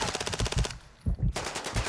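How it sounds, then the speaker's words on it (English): Automatic gunfire in the video game Call of Duty Warzone: loud, rapid bursts of shots, a short pause, then another sustained burst, close and dominant. "Stop shooting at teammate."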